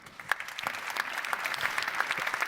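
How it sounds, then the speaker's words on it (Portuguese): Applause from an audience at a Portuguese forum on ethics, values, politics and the quality of democracy, honouring a foundation; steady moderate clapping with scattered sharper claps throughout, no voices over it. "Um aplauso para a Fundação"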